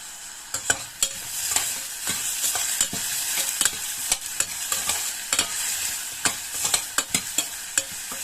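Onion, green chili and garlic frying in hot oil, a constant sizzle broken by sharp scraping clicks of a spatula stirring the pan.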